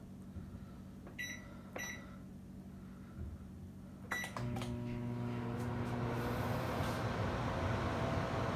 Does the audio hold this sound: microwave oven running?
yes